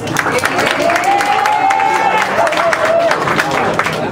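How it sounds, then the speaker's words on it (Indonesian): Audience at a stand-up comedy show clapping and murmuring in a dense, steady wash of applause, with a voice carrying over it. "Tepuk tangan dulu untuk Oma Munir."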